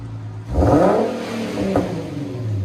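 A 2014 Infiniti Q50 V6 with a Borla Pro XS dual exhaust and muffler delete revs up in a quick rising blip over a steady idle, then settles back to a loud rumbling hum close by.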